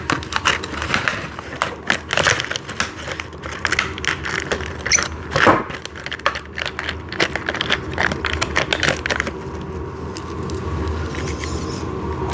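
Office chair parts being bolted down with washers, heard as a busy run of sharp metallic clicks, ratcheting and rattles from a close tool, dense at first and thinning toward the end.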